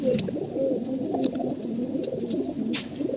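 Pigeons coo in low, soft, rolling calls, repeating steadily over a faint background hiss.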